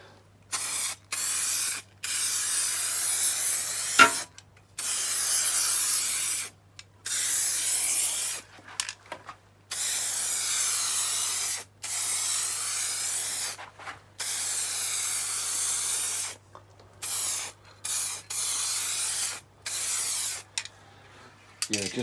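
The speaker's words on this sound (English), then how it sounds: "So we're now going to put on some primer, some etch primer." Etch primer sprayed onto a car's front wheel arch in a run of short aerosol bursts, loud and close, each hiss separated by brief pauses.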